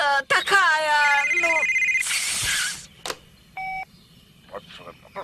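A cartoon telephone rings in a short burst of bright electronic trills, with chirpy cartoon sounds before it and a few short beeps after.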